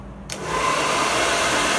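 An electric hair dryer blows on a wet shirt, starting with a click and then running as a steady, loud, close-up rush of air with no talking.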